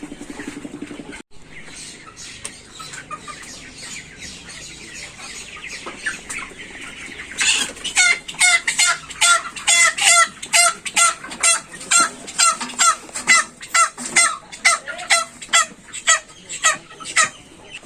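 A flock of about 1,020 Sonali chickens, 40 days old, in a poultry shed clucks close by, starting as faint background chatter, then breaking into loud, rapid, rhythmic clucking bursts for the rest of the span.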